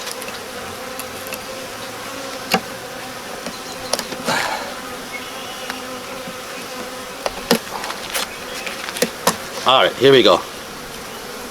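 Honey bees drone around a beekeeper installing a package of bees, a constant close buzz with louder swells as insects fly near, plus scattered knocks and handling clatter and someone speaking briefly.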